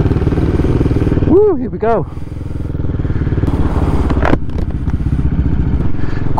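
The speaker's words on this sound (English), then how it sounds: "Join me today for a demo ride on this here CCM flat tracker." A CCM Flat Tracker motorcycle rumbles loudly and steadily up close on a demo ride, with a short rising rev as it pulls away and a rider's brief voice over the engine.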